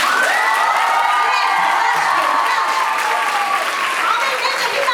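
Sustained audience applause fills a children's celebration of motherhood and beauty, loud and continuous, with cheering and children's shouts mixed into the clapping.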